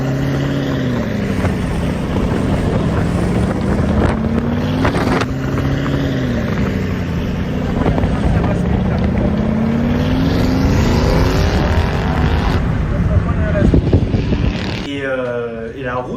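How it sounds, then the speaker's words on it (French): A local taxi car is driving at about 130 km/h on a Zambian road, giving a loud, steady roar of engine, tyre and wind noise with rising and falling engine tones and occasional bumps, with no one talking. "C'est une voiture de taxi d'ici. Donc 130 à l'heure, tu sens les vibrations quand il y a une bosse."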